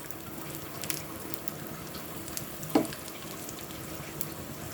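Asafoetida and curry leaves crackle and sizzle softly in hot tempering oil for sambar, a quiet steady fizz with a few sharper pops and no voices.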